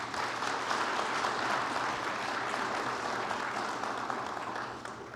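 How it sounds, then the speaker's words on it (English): Steady applause from a seminar audience fills the room, a dense, continuous wash of clapping that holds evenly and tapers slightly at the end, with no talking over it. "could you please give them a round of applause?"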